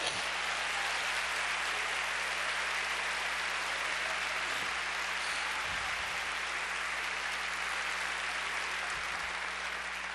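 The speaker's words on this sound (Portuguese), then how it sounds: "Será que você pode aplaudi-lo por isto?" A Baptist church congregation applauds at a worship service, a dense, sustained wash of clapping that holds steady for the whole stretch with a faint low hum underneath and no talking.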